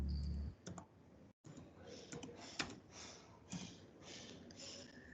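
Keys clack on a computer keyboard while a password is typed into an Oracle Fusion finance screen, a scattered series of sharp clicks at close range with a brief dropout partway through.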